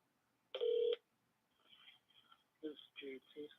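A single short electronic telephone tone sounds, then a person speaks over a phone line, their voice thin and filtered.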